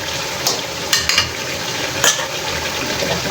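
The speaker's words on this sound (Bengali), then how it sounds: "আবার 2 মিনিট পর যেন নিচে লেগে না যায় সেদিকে কালারটা নেড়ে দিচ্ছি" Green hariyali chicken curry being stirred in a pan, close scraping and shuffling strokes over a steady low simmer, with a few sharper clinks of the spoon against the pan.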